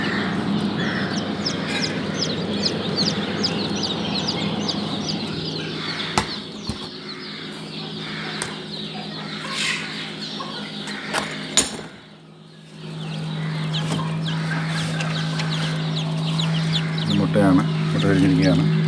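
Chicks hatched from chicken and quail eggs in a homemade fridge incubator keep up a busy peeping, broken by brief wing flutters and knocks, a short quiet gap, then a steady hum beneath the chirps.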